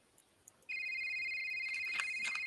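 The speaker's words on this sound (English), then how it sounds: "I got to go answer that phone that is apparently downstairs." Inside a video game, a telephone downstairs starts ringing after a quiet moment with a couple of faint clicks, giving one steady electronic ring with bright tones that carries on to the end.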